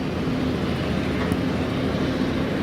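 A KLM Airbus A321neo airliner at Manchester Airport produces a steady, broad jet roar with a low droning hum, heard continuously at moderate loudness from a distance.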